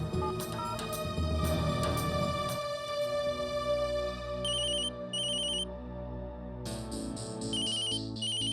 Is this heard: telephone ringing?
yes